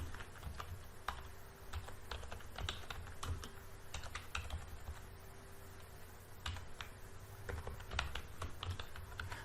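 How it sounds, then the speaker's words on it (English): Typing on a computer keyboard into a search box, a steady patter of close, light key clicks in uneven bursts over a low background hum. "I can just type in photo gallery app, hit search"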